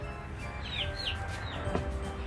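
Chickens cluck and call on a small farm garden during a tomato harvest, with a few brief close squawks over a steady outdoor background and no talk.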